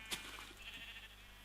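A sheep bleats in the video game Minecraft with the Tekkit modpack, one short faint bleat followed by softer game sounds over a steady low background.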